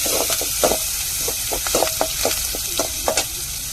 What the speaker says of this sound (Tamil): இப்போ ரெண்டு கருவேப்பிலை சேர்த்துக்கிடுவோம்